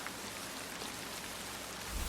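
Quiet, steady nighttime rain falling on a surface, a continuous even wash of drops with a slight low rumble rising at the very end, no voices present.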